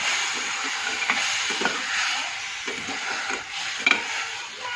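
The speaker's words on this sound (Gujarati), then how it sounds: "હવે ચોખા ધોયેલા છે તે આપણે નાખી દઈએ અંદર" Washed rice tipped into a hot pot of frying onion with mustard seeds, cumin and turmeric for khichdi, giving a steady loud sizzle with scattered clinks and scraping stirs throughout.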